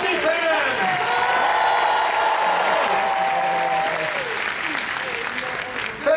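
Warm applause with cheering and whoops from a large audience at a Disney songbook concert at the D23 Expo, steady and dense, a voice briefly heard at the end.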